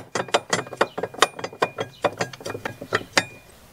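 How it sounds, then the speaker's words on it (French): A ratchet wrench clicks rapidly while tightening the nut on a Fiat Ducato battery terminal, with a steady run of sharp, close mechanical clicks and no talk. "la bloquer avec son écrou que je vais resserrer et bloquer"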